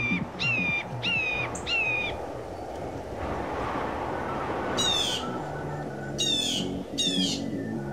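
Synthetic bird calls from a drone's bird simulator mode: repeated bright chirping squawks in short bursts of two or three, loud and close over steady broadband rushing noise, with no talking.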